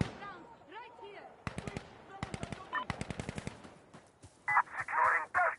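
Gunfire in Insurgency rings out as a series of sharp, loud single shots and quick bursts in uneven rhythm, with voices shouting in between and under the shooting.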